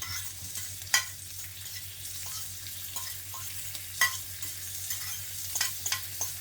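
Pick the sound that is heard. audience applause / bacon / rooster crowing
bacon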